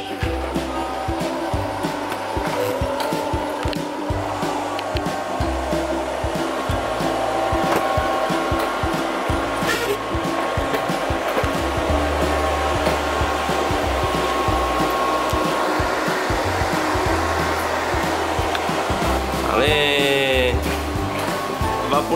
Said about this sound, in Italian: Un robot aspirapolvere. Non uno, ma ben due robot.